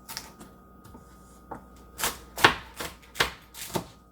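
A knife chops hot peppers on a board in a run of crisp, close, fairly loud strikes that speed up toward the end, quick rhythmic cuts with no talking.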